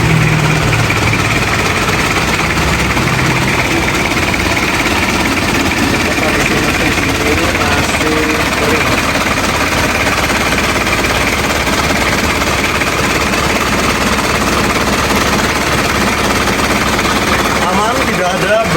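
A 1994 Isuzu Panther Hi-Grade engine runs continuously while warming up, a loud, steady, rattling idle close by, with people talking over it.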